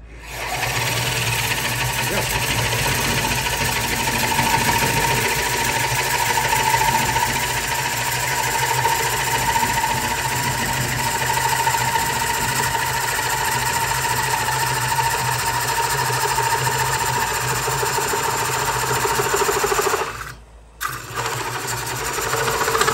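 A wood lathe spins a bowl blank being cored with a Oneway Easy-Core, giving a steady loud mechanical drone with a rough cutting texture that briefly drops out near the end.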